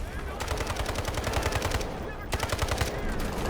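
Gunfire in the Delta Force shooter game comes as rapid, evenly spaced automatic bursts, loud and close, with a short pause before the firing resumes.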